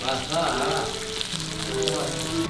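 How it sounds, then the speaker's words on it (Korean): Beef tripe sizzles steadily in hot beef fat on a grill, a dense crackling fry that stays close and even throughout, with no speech. "이 대창 기름에다가 지금 굽는 거예요"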